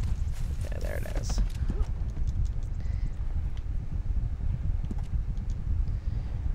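A horse's hooves clip-clop steadily at a walking pace in the video game Fallout 76, with a constant windy outdoor background throughout.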